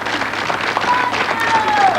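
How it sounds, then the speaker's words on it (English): A studio audience on a 1997 talk show applauds a guest, a steady sustained round of clapping heard close and fairly loud, with voices mixed in. "Won't you all please, a round of applause for Jolene"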